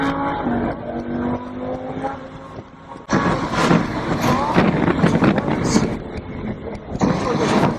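A Lamborghini Huracan on a race track accelerates hard: a rising, harmonic engine note climbs over the first few seconds, then gives way to a loud, steady roar as the car gathers speed, with someone talking over it.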